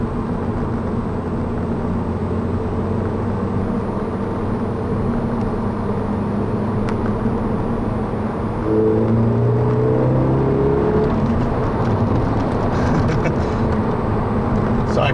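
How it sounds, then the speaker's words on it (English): Exhaust drone of a 2010 Volkswagen GTI while driving in traffic, heard from inside the cabin as a steady low rumble with road noise, rising into a louder revving pull toward the end. "You can hear the exhaust in here."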